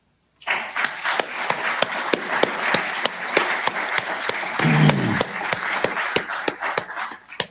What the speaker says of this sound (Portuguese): eu peço a vossa salva de palmas